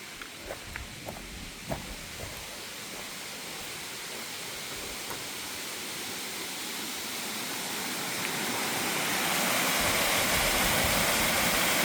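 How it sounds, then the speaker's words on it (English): A waterfall rushes steadily, a dense continuous hiss of falling water that grows gradually louder, with a few faint light taps early on. "And there's the waterfall, trundling away."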